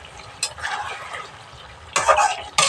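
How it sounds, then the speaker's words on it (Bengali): Fried chicken being stirred and cooked down with a little water in a pan, with scraping spoon strokes and soft sizzling up close, plus a louder burst of stirring near the end. "অল্প পানি দিয়ে আমি আবার কষে নিচ্ছি"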